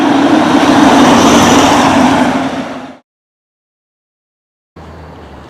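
A Hummer driving loudly, a heavy broadband engine and road roar that holds steady for about three seconds, cuts to silence, then returns more faintly near the end.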